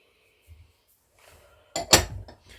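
A fork quickly beats flourless, fat-free chocolate-banana muffin batter in a bowl: a few faint taps, then a short, loud burst of clattering metal-on-bowl scraping and clinks.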